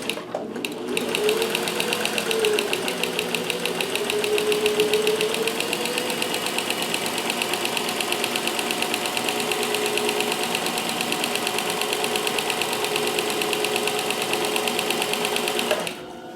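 A sewing machine fitted with a walking foot attachment stitches continuously, a fast, even mechanical chatter running steadily for over a dozen seconds before stopping.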